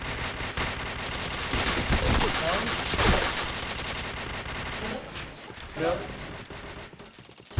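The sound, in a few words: gunfire in the video game Point Blank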